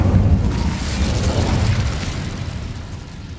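An Incendio fire spell bursts in Hogwarts Legacy, a loud booming whoosh that hits at once and then slowly fades into a rushing, crackling tail.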